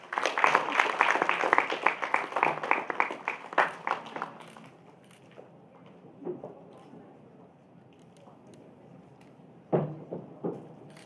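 Audience applause at an inauguration ceremony, brisk rhythmic clapping that fades out after about four seconds, followed by quiet room noise, faint voices and a brief burst of claps near the end.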